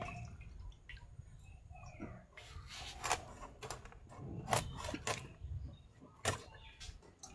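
Water is tipped out of a container while tilapia fish are being cleaned for cutting, heard as soft splashes and sharp drips and spatters close by over a low background murmur.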